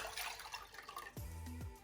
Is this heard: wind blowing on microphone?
no